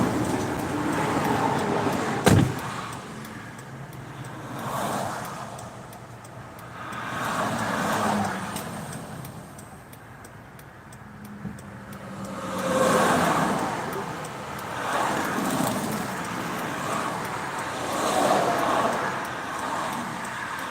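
Vehicles pass one after another along a turnpike while a car sits broken down on the roadside, each swelling and fading as a whooshing rumble, with a sharp knock early on and a person speaking intermittently.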